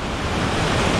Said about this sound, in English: It's a lot of whitewash right now because of these waves